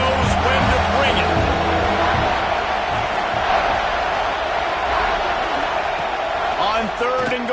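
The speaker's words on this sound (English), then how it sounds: "This crowd knows when to bring it." A packed college football stadium crowd roars steadily at an LSU game near the goal line, a loud sustained wash of cheering and noise with a commentator talking over it.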